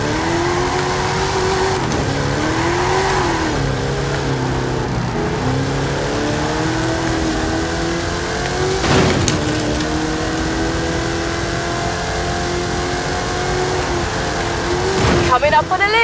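Race car engines roar steadily in a Forza Horizon 5 Hot Wheels race, with shifting pitch sweeps as the cars accelerate through loops, loud and continuous, with brief whooshing passes near the middle and the end.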